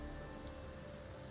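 Steady rain falling in a video game, a dense continuous hiss of drops with a faint tonal hum beneath, unbroken and even for the whole moment.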